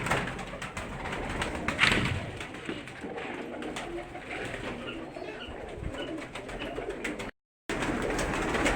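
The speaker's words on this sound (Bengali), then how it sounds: "এই যে গিরিবাজ কবুতরগুলো সব উপর থেকে নিচে নামছে খাবার খাওয়ার জন্য।" Giribaz pigeons coo steadily at a pigeon farm while wings flutter now and then as the birds drop down to feed, a dense continuous flock sound with a brief dropout near the end.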